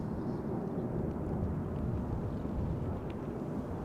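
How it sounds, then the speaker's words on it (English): China Cargo Airlines Boeing 777 freighter arriving from Shanghai at Amsterdam Schiphol, a steady broadband jet roar with deep low rumble that holds constant throughout, heard from a distance. "flight 209, arriving from Shanghai. 777 freighter, left Shanghai 10 hours 58 minutes ago."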